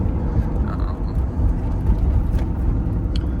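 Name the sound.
Lamborghini Diablo engine while driving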